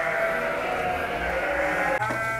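F1 Dorper and Awassi sheep at a farm bleat in a sustained, wavering cry that lasts over two seconds, close and loud, with a second bleat starting near the end.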